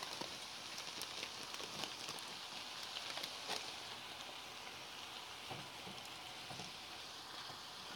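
Spinach sautéing in a pan with corn and other vegetables, a quiet steady sizzle with faint crackles and occasional soft stirring taps, no voices.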